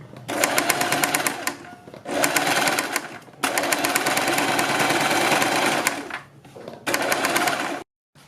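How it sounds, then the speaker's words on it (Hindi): A sewing machine stitching along a neckline, loud close bursts of rapid mechanical whirring and needle chatter in several runs separated by brief pauses, ending with a short silence and a faint restart. "हम गले के किनारे से सिलाई लगानी शुरू करेंगे और इस निशान तक लगाएंगे।"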